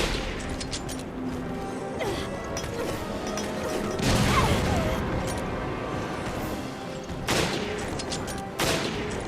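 Repeated gunfire aimed at an enemy in Resident Evil Revelations Abyss Raid Mode: dense volleys of shots and impacts rolling on steadily, with a heavier swell midway and a few sharp bursts near the end.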